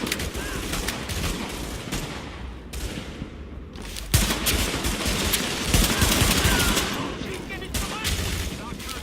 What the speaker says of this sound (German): Ich schieß so viel.